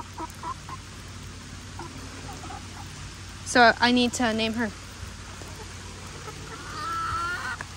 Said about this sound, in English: I never had a chicken so tame.